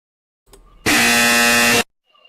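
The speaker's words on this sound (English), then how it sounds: "I'm gonna play the incorrect buzzer sound" A loud, harsh incorrect-answer buzzer sound effect plays on a stream, one continuous nasal blare lasting about a second, with faint background noise before and after.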